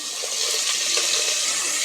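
Steady, bright sizzling of chopped onions frying golden in a hot pan for mutton biryani, a continuous hiss with soft crackles and no voices.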